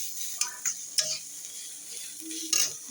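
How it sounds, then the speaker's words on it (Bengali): Radish greens fry in a pan with a steady soft sizzle, broken by a few sharp scrapes and clicks of a spatula stirring them. "এটা হচ্ছে তোমার মূলো শাক ভাজা"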